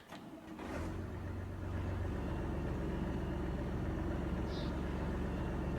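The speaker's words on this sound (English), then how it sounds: "I love the idle engine sound on this tractor." A tractor engine idles in Farming Simulator 25, starting up after a brief clatter and then settling into a steady, close, even rumble that carries on to the end with no talking over it.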